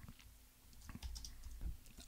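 Light keystrokes tap on a computer keyboard in short irregular bursts, quiet and close, with no talk.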